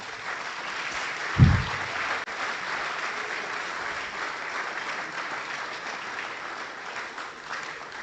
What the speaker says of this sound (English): give our speaker one big round of applause